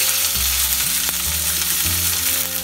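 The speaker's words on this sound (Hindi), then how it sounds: "मीडियम फ्लेम पे हमें 3-4 मिनट आम फ्राई करना है" Raw mango pieces fry in a pan over a medium flame for chutney, giving a steady, close sizzle that runs unbroken throughout with no voices.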